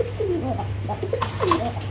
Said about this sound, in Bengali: এখানে আরো এক জোড়া কবুতর আছে, আর এটা হলো রাজগোল্লা, আকাশি কালারের রাজগোল্লা